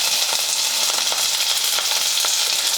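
Curry leaves, chilli, garlic and chopped carrot sizzle steadily in hot oil in a pan, a continuous bright crackling frying sound with no talking.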